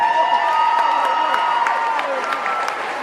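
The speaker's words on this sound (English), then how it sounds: "Y'all give them a round of applause." A pep rally crowd applauds and cheers for a high school football team, the Hawks, in Pleasant Grove. The clapping and cheering fill the room steadily throughout, with a sustained tonal whine running beneath it.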